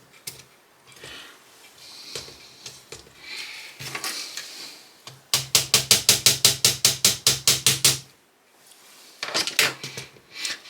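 A small light hammer taps plastic pieces of an imitation Lego Ferrari Daytona SP3 car into place: a quick run of about fifteen crisp, rhythmic knocks, close by, between quieter handling noises.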